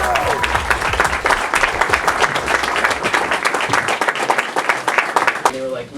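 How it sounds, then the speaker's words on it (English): A book-club audience at a comic shop breaks into dense, continuous applause, many hands clapping close by for several seconds before it fades out. "Let's all give a big round of applause to Scott Snyder."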